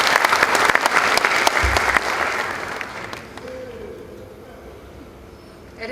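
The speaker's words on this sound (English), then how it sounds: "Shall we please give him another round of applause?" Applause from a symposium audience at a formal panel event, a dense burst of clapping that fades after about three seconds into quieter room tone with scattered claps.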